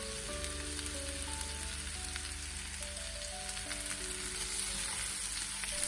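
Courgette cooking in a pan for a baked courgette flan, a dense, steady sizzle and crackle at close range under soft background music, no talking.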